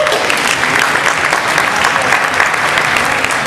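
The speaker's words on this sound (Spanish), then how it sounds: "fuerte el aplauso, por favor" Audience applause at a circus gala in Rosario, a dense, loud burst of clapping from a large crowd sustained evenly across the whole stretch.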